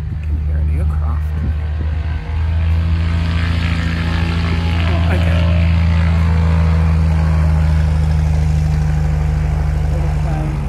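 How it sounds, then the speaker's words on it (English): A small propeller plane takes off at a civil aviation airfield, a loud, steady droning engine with a strong low hum filling the scene, with a person speaking briefly nearby. "I can hear an aircraft."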